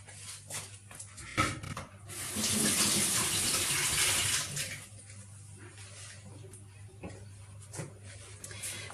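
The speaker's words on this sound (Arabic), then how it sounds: "راه مغسلي يدي حيت تعلكات ليا بالعسل" Water runs from a tap for a few seconds as honey-sticky hands are rinsed in a home kitchen, a steady loud gush starting and stopping amid small clatters.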